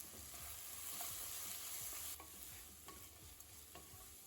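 Vegetables with salt, Kashmiri chili powder and garam masala sautéing over a low flame for macaroni pasta: a steady soft sizzle with occasional stirring scrapes of a spoon in the pan, close and alone.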